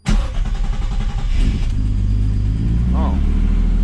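A turbocharged BMW M52 engine fitted in an E30 cranks and fires, settling into a loud, steady running rumble, while a voice talks over it for much of the time.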